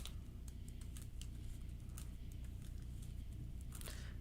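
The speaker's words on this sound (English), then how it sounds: "And we gotta shuffle this." A deck of Marvel Champions cards is shuffled on a table, giving a quiet series of crisp riffling clicks and flicks in short bursts, close and faint with no talk.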